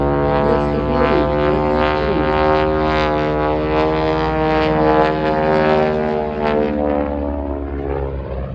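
A yellow propeller biplane drones overhead at an airshow, a steady harmonic engine hum that holds fairly loud and eases slightly toward the end, with no talking.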